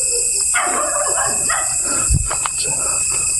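A dog barks at night on a roadside where a stalled vehicle waits, a short deep bark close by near the middle of the clip, standing out over a steady high insect drone and faint background noise.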